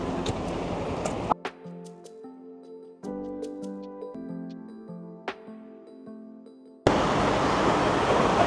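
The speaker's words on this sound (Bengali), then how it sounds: "ঢেউয়ের আওয়াজ হলো, আওয়াজটাই শুনতে দারুণ।" Ocean waves break on the beach at Digha as a loud, close, rushing wash at the start and again at the end, with a tonal musical passage in between.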